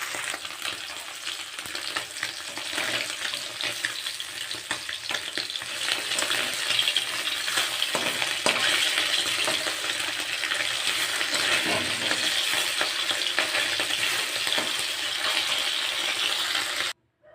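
Small fish fry in medium-hot oil in a pan, a dense continuous sizzle and crackle that swells slightly partway through and stays loud and close without any talking, ending abruptly.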